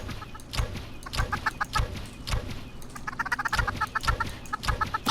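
Chickens cluck in Minecraft, in short repeated bursts of clucks mixed with soft thumps, close and fairly loud, with no talking.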